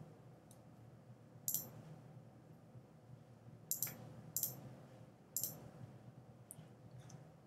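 Computer mouse clicking on an execute button in an Atlassian test tool: a handful of sharp, close clicks, some in quick pairs, spaced over a quiet background.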